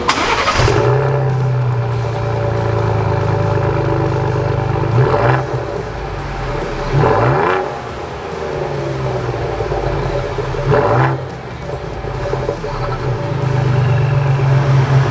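A 2021 Ford Bronco fitted with a Corsa turndown catback exhaust starts up and idles with a deep, steady drone, with a few brief revs rising over the rumble; loud and close, no voices.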